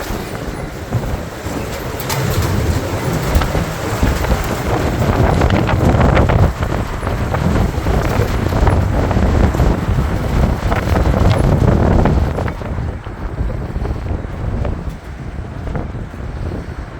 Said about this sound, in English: Oh my gosh, it's so windy out.